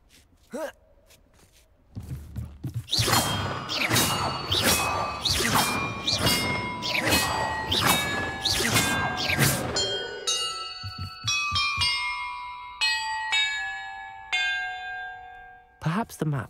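Bells rung one after another in a Hogwarts Legacy puzzle: after a short gasp-like breath, a rapid series of loud, ringing metallic strikes gives way to slower single tones with long decaying tails.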